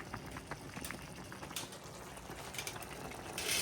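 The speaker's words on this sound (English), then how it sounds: "Boiling." A quiet, steady bubbling and gurgling of liquid at a rolling boil, faint and continuous with no talking.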